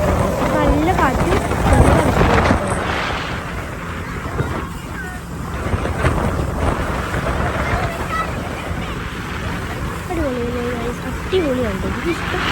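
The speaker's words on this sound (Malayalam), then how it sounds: "നല്ല കാറ്റ്" Gusting wind buffets the microphone during a boat ride near Hahei beach, a constant roaring rush with waves and engine wash beneath, while people talk over it.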